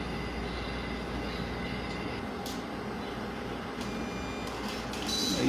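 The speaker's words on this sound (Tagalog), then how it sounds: "nagpiprint na po siya and umiikot na yung gear nya" Epson LQ-590 dot matrix printer running a test print with its gear turning, a steady close mechanical whir and rattle throughout with a few brief high clicks, growing slightly louder at the end.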